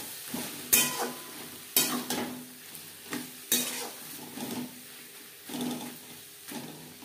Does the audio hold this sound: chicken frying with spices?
yes